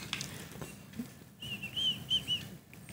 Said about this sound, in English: Look, whistling.